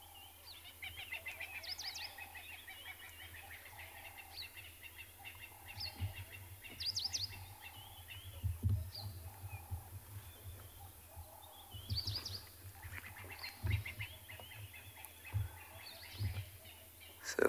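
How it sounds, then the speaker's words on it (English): Dawn birdsong at Tswalu with Franklin's francolins, doves and hornbills calling: scattered chirps and calls, some near and some distant, over a steady low background hum, with no talking. "All I can hear is a few Franklins, doves, and lovely hornbills as well."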